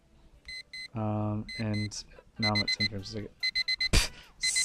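Electronic alarm clock in the horror video game Evil beeping in repeated short bursts, alternating with someone talking over it.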